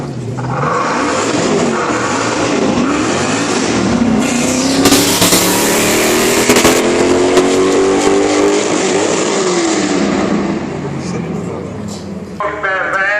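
A race car of just under 1000 kg with 650 horsepower accelerates hard down the finishing straight, its engine climbing loud and high in pitch as it roars past, with a voice talking over it throughout.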